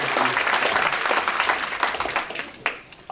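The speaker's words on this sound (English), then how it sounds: "Round of applause for those 3 volunteers" A live audience at a North East spring expo applauds three volunteers, with dense, close clapping that holds steady and then tapers off, with some voices mixed in.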